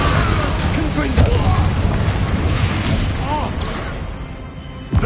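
Repeated Confringo fire-spell blasts in the Hogwarts Legacy video game, with loud booming explosions over dense game noise and a player speaking throughout.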